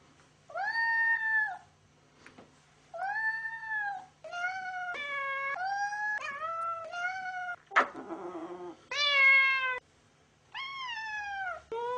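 A cat being cuddled lets out a series of long, drawn-out meows and wailing cries, loud and close, in repeated bursts separated by short pauses.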